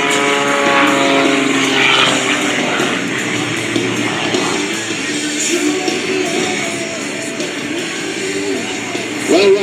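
Rob Holland's aerobatic propeller airplane stops and spins at the 2023 NAS Oceana air show. The engine roars loud and near, its pitch surging and sagging as it rotates, and the sound stays strong throughout.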